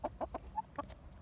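Several short, throaty hen clucks in an irregular series, close by, with a low rumble of background noise underneath.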